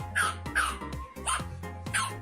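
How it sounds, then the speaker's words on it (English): A puppy barks four times in a steady rhythm, close and clear, each a short sharp yap. "Bark all day, puppy."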